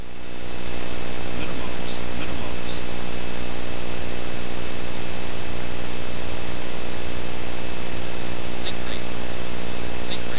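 Steady, loud cockpit drone of a Citation V jet with its engines pulled to flight idle on a steep landing approach, a dense broadband roar with a constant hum and no clear change throughout.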